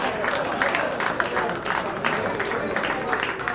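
An audience at a jazz club tribute night applauds steadily, a dense wash of clapping from a moderately close crowd, with a voice speaking over it.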